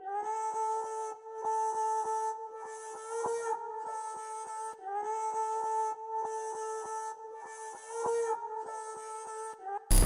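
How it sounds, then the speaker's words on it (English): A reverse-vocal-like texture in a beat: a steady sustained tonal drone with airy swelling bursts pulsing in a regular loop, soft and even, no voices. "I later introduced another texture that sounds like a reverse vocal"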